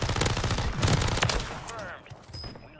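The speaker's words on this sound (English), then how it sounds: "Who just shot at me?" Rapid bursts of automatic gunfire in the shooter game Warzone, loud and close, crackling in quick clustered volleys for most of the stretch before fading into quieter game ambience.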